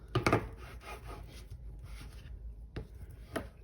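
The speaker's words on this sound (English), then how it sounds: "Next, you go over it with your smoothing tool," A bookbinding smoothing tool (bone folder) rubbed over a folded-over paper cover edge, a few quiet dry scraping strokes, one sharper burst at the start and soft intermittent rubs after.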